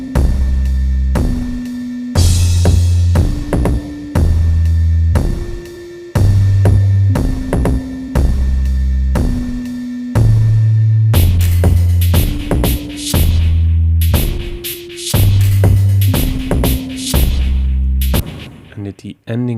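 A monotone, simple drone bass holds long low notes that shift pitch only slightly, paired with loud punchy drum hits in a steady repeating pattern, with denser, busier percussion in the second half.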